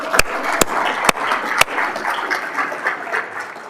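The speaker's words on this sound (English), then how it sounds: "please give them a round of applause" Audience applause at a robotics meetup, a steady wash of many hands clapping across the room, with a few sharp, louder claps standing out near the start.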